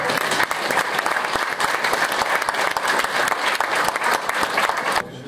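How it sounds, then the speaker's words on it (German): Dense, steady audience applause fills a hall at the Olympus Horizonte 2014 photo festival in Zingst, loud and continuous before dropping off abruptly at the very end. "Einen großen Applaus."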